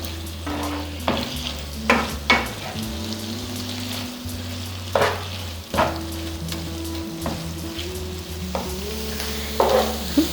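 Kerala-style beef fry cooking on a high flame as its water boils off, a steady bubbling sizzle broken by periodic stirring scrapes, close up with a soft music bed underneath.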